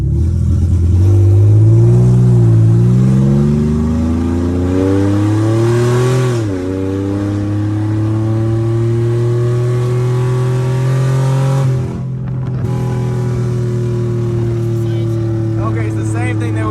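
An Infiniti G37 with a swapped VR30 engine revs loudly and continuously while driving, its pitch climbing and dropping through several shifts and settling into a steady drone near the end.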